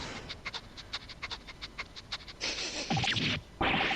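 A dog in The Great Ace Attorney 2: Resolve video game pants rapidly and rhythmically, close and fairly loud, and a brief sharper scuffing game sound comes near the end.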